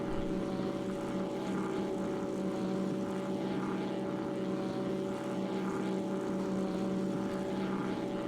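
A propeller aircraft engine in the X-Plane 11 flight simulator running at full throttle, a loud, steady droning roar with a constant buzzing hum and no change in pitch, heard alone without talk.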